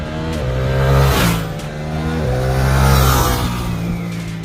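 A Suzuki GSX-8R motorcycle engine revving loudly up and down through gears, rising and falling in pitch as it accelerates twice, close and without talk.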